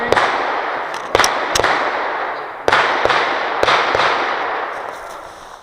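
Glock 35 pistol fired at an outdoor gun club during a USPSA Limited stage, several sharp loud shots at irregular intervals, each with a ringing echoing tail over steady background hiss.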